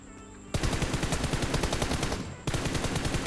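Rapid bursts of automatic gunfire from PUBG Mobile, a loud near volley that stops briefly and then resumes, with no talking.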